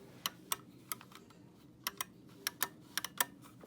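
A Commodore 64 Maxi joystick clicking, with sharp, quiet, irregular clicks in a small room and no voices.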